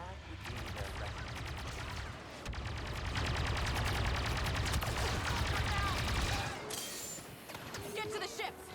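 Sustained gunfire in a Star Wars Battlefront 2 battle on Jakku, dense rapid bursts of blaster shots crackling continuously with brief lulls, loud and close, with voices shouting over the combat.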